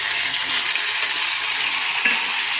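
Tangra fish that has already been fried is sautéed in a pan with a paste of ginger, garlic, tomato and onion, giving a steady, loud sizzle and frying hiss throughout with a faint stirring clink near the end.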